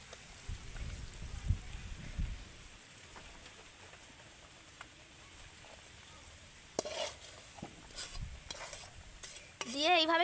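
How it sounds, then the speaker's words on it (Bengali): Badam chikki mixture of peanuts and syrup being stirred in a kadai, faint scraping and stirring at first, then louder bursts of spoon scrapes and clatters toward the end. "আবারও ভালো করে একটু এইভাবে নেড়ে নেব"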